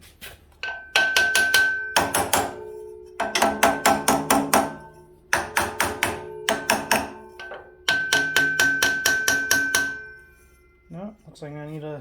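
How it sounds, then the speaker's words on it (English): Rapid series of ringing metallic hammer strikes on a Simplicity generator attachment, delivered in several bursts of about eight blows each with short pauses between. "me grab a hammer to give it some persuasion."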